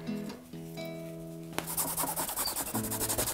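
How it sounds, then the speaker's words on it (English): Soft, steady rubbing strokes blend away the edges of a hand-drawn art design, close and quiet, with a sharper scratchy texture setting in partway through. "Make sure you rub all those edges away so you don't get any lines left."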